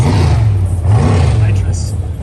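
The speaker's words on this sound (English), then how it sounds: "And I hit the rev limiter like in every gear" A stick-shift Toyota Supra drag car, a 7-second street car on nitrous, runs hard at a strip, its engine droning loud and steady near the rev limiter, with no break.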